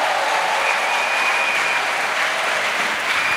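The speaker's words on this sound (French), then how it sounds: "Let us clap for Jesus." A church congregation claps for Jesus, steady, loud and continuous applause from a crowd filling the room, alone without speech throughout.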